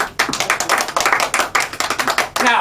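Small audience clapping at a close-up magic show with a tennis theme, a dense burst of hand claps that swells and then fades over a couple of seconds, close and fairly loud.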